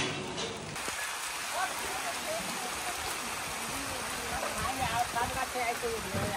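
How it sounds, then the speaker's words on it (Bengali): Rain pours in a dense, continuous hiss, with drops pattering on surfaces close by. "হঠাৎ করে বৃষ্টি এসে গেছে"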